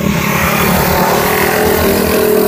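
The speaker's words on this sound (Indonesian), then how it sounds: "Terus ada suara motor" A loud, steady engine drone close by, like a motorcycle idling or cruising, with no other sounds.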